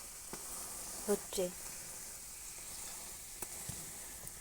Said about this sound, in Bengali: আমি এভাবে এপাশ আর ওপাশ দুভাবেই ভেজে নেব